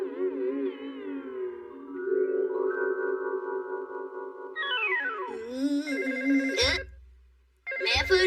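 A cartoon telephone rings with a warbling, melodic electronic tone whose pitch bends and slides through several phrases, loud and steady, broken by brief whooshing effects near the end.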